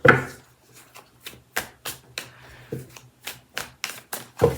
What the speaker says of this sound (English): So we'll just shuffle for a second.